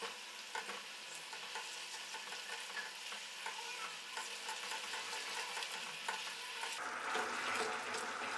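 A sauce for grilled chicken thickens as cornflour paste is stirred in, with a spoon scraping and tapping the pan over a soft simmering sizzle that grows brighter and louder toward the end; no speech.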